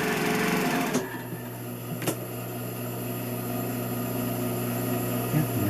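A high speed oil fed straight stitch sewing machine runs in a fast buzzing burst that stops after about a second, then leaves a steady motor hum with a couple of faint clicks.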